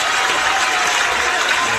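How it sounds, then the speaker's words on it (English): A round of applause opening a gaming podcast episode: a steady, continuous wash of crowd clapping with no pauses, even in loudness throughout and with no voices standing out. "a nice, beautiful round of applause"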